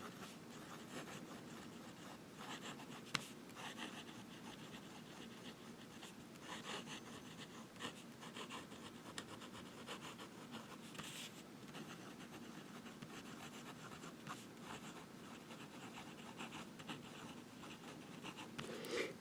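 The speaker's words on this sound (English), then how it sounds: "Reverse writing." Fountain pen nib used upside down in reverse writing on paper, a faint, steady scratchy scrawl of strokes running continuously with no talking.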